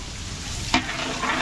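Butter frying in a pan for a sweet and sour dish prepared by a Pampanga catering cook: a steady close sizzle with one brief sharp stir or clatter midway, no talking.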